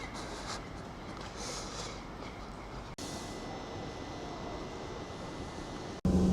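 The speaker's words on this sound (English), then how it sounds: "This is the front of the Class 158 service from Carlisle to Leeds city station." A Class 158 diesel train idles nearby at Carlisle with a steady, low mechanical rumble, briefly cut off twice.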